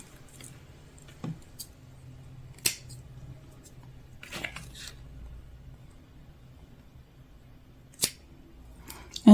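Scissors snip off the excess ribbon while tying a knot on a DIY plant cozy, a few sharp, isolated clicks and snips spaced apart in a quiet room.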